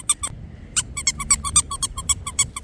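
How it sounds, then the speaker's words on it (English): A squeaky dog toy squeaks in a rapid, uneven series of sharp chirps, close and clear, with a short pause early on and no talking. "Oh, look, it squeaks, Mutt, it squeaks."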